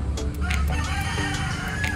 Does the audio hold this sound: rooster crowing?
yes